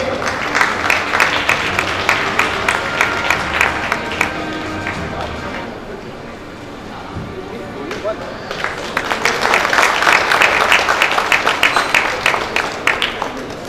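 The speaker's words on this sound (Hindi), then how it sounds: "जोरदार तालियां हो जाएं दृष्टि जी के लिए।" Loud applause from an audience at the Shakti Samman 2024 awards ceremony in Raipur honouring a recipient, dense clapping that dips briefly mid-way before swelling again, with crowd murmur throughout.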